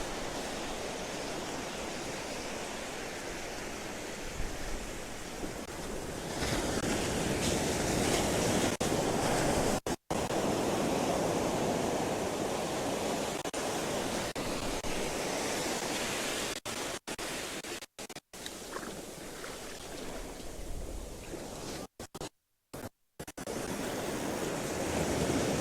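Sea waves break and wash onto Tyninghame Beach on Scotland's east coast in a long, continuous roar of surf, loud and near, with wind buffeting the microphone and a few brief dropouts.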